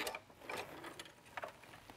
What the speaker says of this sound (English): I'm just stitching along the one that I did at half an inch.